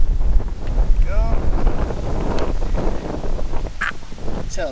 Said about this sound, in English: Tell it's super windy.